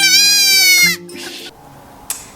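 Sheep bleat loudly and close by on a roadside in Iceland, one long wavering call followed by fainter bleats and a short sharp cry near the end.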